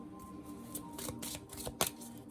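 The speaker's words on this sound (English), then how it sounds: "Let me pull the Kipper cards here." Kipper cards being shuffled, a quiet run of soft papery riffles and flicks with a sharper snap near the end, close by and without talk.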